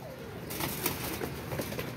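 Pigeons kept by a breeder coo softly and steadily at close range, with a faint flutter of wings among the birds.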